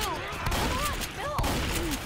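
Rapid gunfire in the Left 4 Dead 2 video game crackles through a short stretch of chaotic play, sharp shots under distant speech and game voices.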